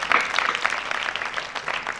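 Audience clapping at a Hindi kavi sammelan poetry recital, a steady wash of many hands that holds at an even level for about two seconds with no voices over it.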